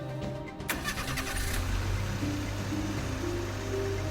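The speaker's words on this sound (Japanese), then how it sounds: "手間取った末、なんとかエンジンをかける。" A rental car's push-button engine start in a horror video game: a sharp click, then a short crank as the engine catches and settles into a steady, low idling rumble that continues to the end.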